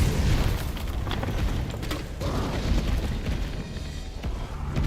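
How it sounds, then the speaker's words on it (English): Explosive rounds fired in Resident Evil 3 against a sewer creature: a dense, continuous roar of booming blasts and rumbling debris, loud and close throughout with no clear gaps. "get some explosive rounds in there"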